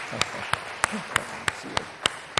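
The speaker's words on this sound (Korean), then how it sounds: "박수로 한번 격려하겠습니다" A church congregation applauds during a Sunday afternoon service, sharp, evenly spaced claps in a steady rhythm with a faint voice underneath.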